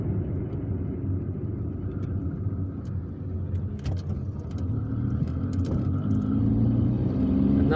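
A car driving through the streets of Algiers, heard as a steady low engine and road rumble from inside the vehicle, growing slightly louder toward the end, with faint scattered clicks and no talking.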